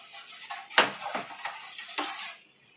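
Crushed turmeric and ginger tipped into boiling water on a gas stove, followed by a metal spoon clinking and scraping against the pot as the mixture is stirred, a few sharp knocks standing out over steady bubbling.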